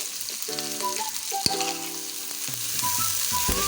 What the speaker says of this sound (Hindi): अब ये सारी चीज़ें अच्छे से फ्राई हो रही हैं।